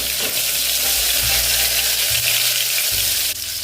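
Garlic cloves, chopped and added to hot oil already holding mustard seeds and cumin, fry in a loud, steady sizzle with occasional stirring scrapes, close and continuous with no talking, for a village-style Maharashtrian aalan.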